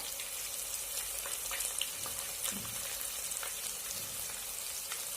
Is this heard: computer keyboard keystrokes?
no